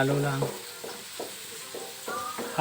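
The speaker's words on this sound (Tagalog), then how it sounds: "antayin natin maging golden brown yung bawang, tapos maglagay tayo ng sibuyas and then halo" Garlic and onion sauté in a pan for paella, a soft sizzle broken by a few scrapes of stirring while a voice talks over it.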